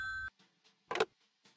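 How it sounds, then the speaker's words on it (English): A short electronic phone ring in the Frog Detective 1 video game: one clear synthetic beep at the start, then a few faint soft sounds and a brief noisy burst. "There's a phone ring."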